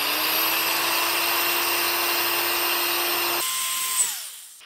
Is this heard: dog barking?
no